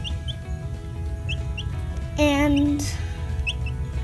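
A hen gives a single loud squawking cluck up close, amid faint chirping and background noise, with a brief spoken word.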